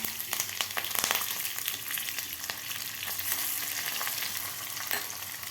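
Green chillies, curry leaves and urad dal crackle and sizzle in hot oil with popping bursts and occasional stirring, loud and close, no voices.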